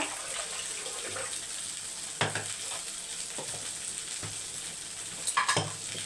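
Water pours into a mixer jar holding ground coconut, fennel and curry leaves, a faint, steady trickle and splash with a few sharp clinks and knocks spread through it, and no one talking.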